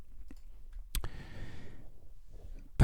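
A computer mouse clicks inside the FX Browser of a music production program: two sharp, close clicks, one near the start and another at the very end, with soft handling noise between them.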